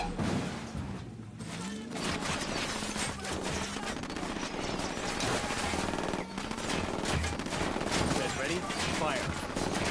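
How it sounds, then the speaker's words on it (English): Rapid automatic gunfire crackles and rattles almost continuously in the Ghost Recon Wildlands video game, a dense fusillade of bursts mixed with game effects, while voices talk underneath. "Opening fire on these fuckers."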